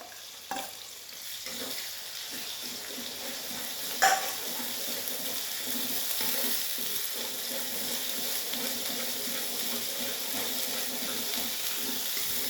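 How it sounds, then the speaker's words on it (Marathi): Onion, ginger and garlic paste sautéing in a pan for a paneer and pea curry, a steady soft sizzle with occasional stirring clinks and one sharp knock, close and continuous without talk. "त्यानंतर आपण कांदा आलं लसूण पेस्ट टाकून घेऊया हेही एक मिनटं परतून घेऊ"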